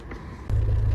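A Land Rover Discovery Sport L550 engine starts halfway through and settles into a steady low idle rumble, close and loud, with no speech.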